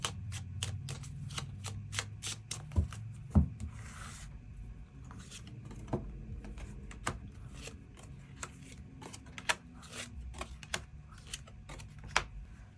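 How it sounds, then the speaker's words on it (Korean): Tarot cards shuffled and drawn by hand for a monthly reading, giving a steady run of crisp, close riffling clicks and soft slides with brief louder snaps, no talking. "추가 카드 뽑아보도록 하겠습니다"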